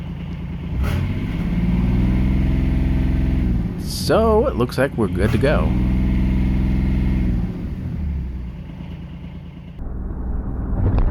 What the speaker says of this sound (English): When I rev the engine, you can see the back pressure go up a little bit.